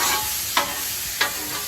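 Cheesesteak meat sizzles on a Blackstone griddle with a steady hiss, broken by two quick scraping strokes of a spatula as it is stirred and pushed across the hot surface.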